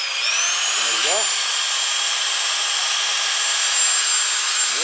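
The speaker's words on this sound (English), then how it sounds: "This is my hammer drill. I'm going to try it out. Start it up slowly." A hammer drill powered from a Pecron 600 watt portable power station whirs with a steady high-pitched motor whine, close and continuous, while someone speaks briefly over it.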